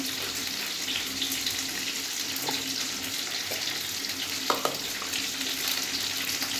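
Jackfruit pieces fry in a pan with a steady, dense sizzling hiss throughout, broken only by a couple of faint clicks near the end, with no one talking.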